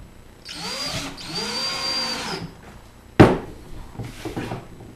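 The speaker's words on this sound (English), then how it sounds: "As you can see, we use a screw gun." Screw gun driving screws into a kitchen cabinet during assembly: two whirring bursts of the motor rising and winding down, then a sharp knock against the wood and a brief softer run of the tool, close by.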